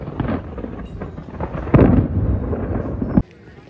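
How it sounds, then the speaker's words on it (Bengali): Thunder rolls during a storm, a loud, close rumble that swells midway, holds for over a second, then cuts off abruptly to quiet. "বিদ্যুৎ চমকাচ্ছে এদিকে।"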